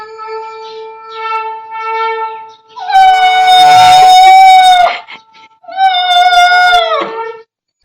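A dog howls in long, wavering, high-pitched cries, rising to a loud sustained howl and then a second shorter whimpering howl, close and clear in a quiet rural village setting in Tehri, Uttarakhand.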